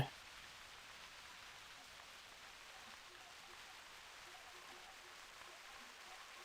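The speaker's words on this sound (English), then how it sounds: "The rain, normally in situations, is pretty helpful." Steady rain falls in the video game theHunter: Classic, a soft, even hiss of drops that holds unchanged throughout at low volume with no other clear sounds.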